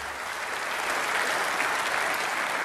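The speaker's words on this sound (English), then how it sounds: "I'm going to clap anyway" Party conference audience clapping, a continuous dense wash of applause from a large hall that swells slightly midway and carries on steadily.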